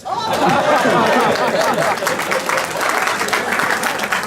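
A jazz concert crowd applauds loudly with dense, steady clapping, with some chatter and voices mixed in underneath.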